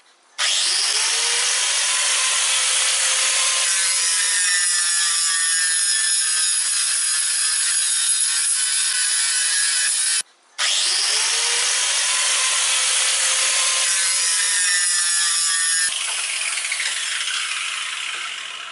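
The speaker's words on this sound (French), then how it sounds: "Allez au boulot maintenant, on va tout décaper." An abrasive power tool strips rust from a steel angle iron before welding, grinding steadily and loudly for about ten seconds, stopping briefly, then running again with a harsh, rattling metallic rasp.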